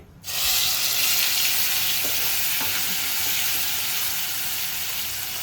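Ginger, garlic, onion, tomato and cumin paste dropped into hot oil bursts into a loud, dense sizzle that holds steady for several seconds, close up, with a couple of faint clinks and no voices.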